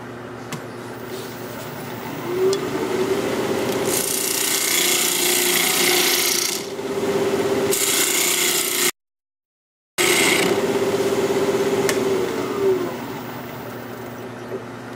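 A woodturning tool cuts into a cherry burl winged bowl blank spinning on a lathe, giving a loud, steady, rasping scrape with a humming drone beneath, broken by a short pause before the cutting resumes.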